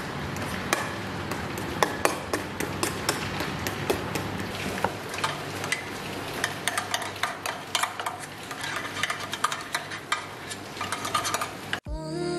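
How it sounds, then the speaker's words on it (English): Bananas being mashed for a thick batter in a home kitchen, with repeated soft squishing and sharp clicks of utensil against bowl throughout, ending in a louder thud. "I just need to mash these bananas now"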